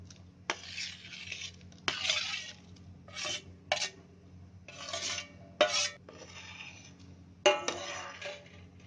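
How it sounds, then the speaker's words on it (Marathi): A spoon stirs mashed potato into milk in a pot for potato kheer, giving intermittent scraping and clinking strokes against the pan, close and moderately loud over a low background hum. "हे सर्व आलू आपण मॅश केलेलं आहे ना हे त्याच्यामध्ये टाकायचं आणि चांगलं हलवून घ्यायचं"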